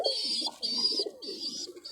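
Pure breeder pigeons cooing repeatedly in close range, three long bursts of soft throaty coos with low murmuring underneath, no talk.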